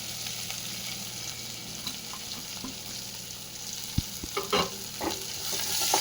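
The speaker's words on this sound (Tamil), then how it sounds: "வெங்காயம் நல்லா வதங்கி வந்துருச்சு." Small and large onions with chopped garlic sauté in a pan, a steady close sizzle broken by several scraping stirs of a spoon toward the end.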